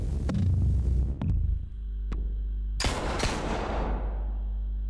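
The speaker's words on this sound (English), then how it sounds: "Oh, the gunshots we heard." Several sharp video game gunshots ring out, including two loud close blasts in quick succession, over a steady low throbbing hum.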